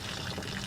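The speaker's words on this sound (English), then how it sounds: "at least like damaged the back so the water was going through" Water pours steadily out of a plastic water barrel damaged by rifle fire, a continuous close splashing rush with no voices over it.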